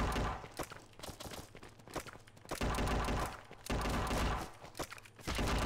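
Machine-gun fire in the mobile battle royale game PUBG Mobile: several loud, sustained bursts of rapid shots separated by short pauses, close and dense, with no talk.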